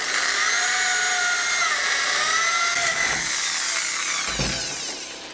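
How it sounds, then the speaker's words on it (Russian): Power drill boring a hole through the upper part of an elbow pad, a steady high whine running continuously and close, with a brief low thump near the end. "Сверлим в части, которая сверху находится."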